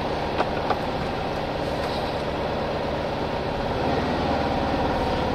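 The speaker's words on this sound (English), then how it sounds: "very nice boxer engine sound" A 1983 Volkswagen Beetle boxer engine runs with a steady, throbbing rumble, close and continuous, heard from inside with windows closed, with a slight lift in pace near the end.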